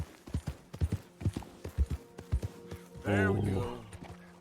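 Horse hooves clip-clop steadily in Red Dead Redemption 2, a close, rhythmic run of hollow thuds, followed by a short neigh near the end, with a man's brief remarks over it.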